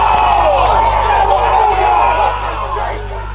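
Football crowd at an Adelaide Footy League Division 1 match between Port Districts and Goodwood Saints, a loud sustained roar and groan of many voices that slowly fades over a few seconds.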